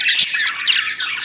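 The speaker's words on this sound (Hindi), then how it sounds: "अभी आप एक तोता जैसा पक्षी को देख रहे हैं, जिसको बोलते हैं बग्गी" A small budgerigar, a parrot-like bird kept in a pot-shaped nest, gives loud, harsh, continuous squawking and chattering close by, with no voices.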